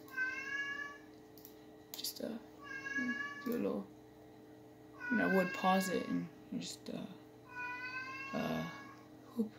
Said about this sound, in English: You guys could probably hear my cat in the background meowing nonstop.